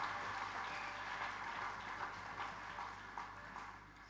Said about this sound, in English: Can you clap for yourself, please?